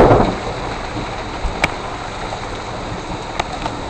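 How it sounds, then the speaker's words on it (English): Heavy rain pours steadily after a hailstorm, drumming on the ground and a pool cover in a dense, continuous hiss, broken by a couple of brief, sharp taps. "Okay, now it's just a rainstorm."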